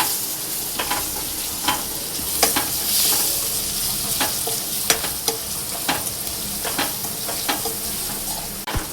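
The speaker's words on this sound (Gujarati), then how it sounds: "અને હલાવી લેશું." Tomato masala with coriander-cumin powder and red chili frying in oil, a continuous sizzle broken by regular sharp spoon scrapes and taps as it is stirred, close and moderately loud, no voices.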